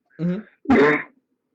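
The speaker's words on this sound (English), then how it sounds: "I'm sorry, I was coughing" Two rough throaty coughs in quick succession, close up, followed by silence.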